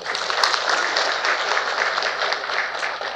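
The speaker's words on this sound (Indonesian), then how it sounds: "Dan saya minta tepuk tangan buat beliau." Audience applause at a national coordination meeting of an Islamic education body, a steady dense wash of clapping that holds evenly for a few seconds with no voices over it.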